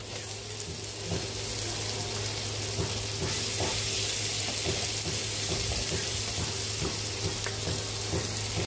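Onions added alongside garlic fry in a pan, giving a continuous close sizzle with scattered crackles and pops and a low steady hum beneath.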